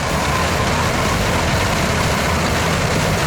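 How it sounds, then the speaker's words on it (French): A John Deere 6R 250 tractor runs a Pöttinger Novacat V 10000 mower combination cutting a 10-metre swath in a Slovak field, its engine a loud, constant, dense drone that never lets up. "Le tracteur John Deere 6R 250 fournit la puissance nécessaire pour entraîner les multiples lamiers sur une largeur de 10 mètres."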